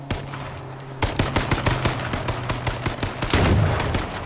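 Rapid shotgun blasts from a 12-gauge in the battle-royale game H1Z1, a run of sharp repeated reports after a quiet lead-in, loud and close with a heavier boom near the end.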